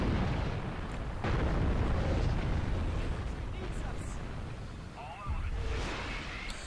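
Booming explosion of an enemy tank hit in the Kinect game Steel Battalion Heavy Armour, a loud sustained rumbling blast with a second burst near the end, a voice talking over it.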